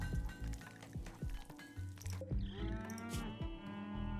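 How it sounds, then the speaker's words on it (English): Cattle mooing in the video game Rimworld, several low game-sound lows mixed with squishy, dripping effects and a tonal backdrop, all fairly quiet. "Look at all these, look at all the cattle."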